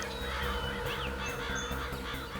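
Crows cawing and calling near water, a dense overlapping chorus of harsh bird calls over steady background noise, fairly close and continuous, with no talking.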